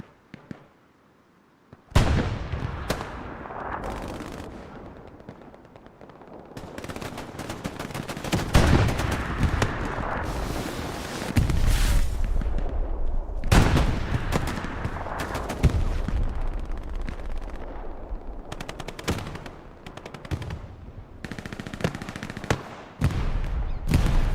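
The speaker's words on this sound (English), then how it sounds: "what is that firing in the distance?" Gunfire crackles in the distance on a night battlefield in the WWII shooter Hell Let Loose, with bursts of machine-gun rattle and scattered shots overlapping, swelling and fading without a break after a quiet opening.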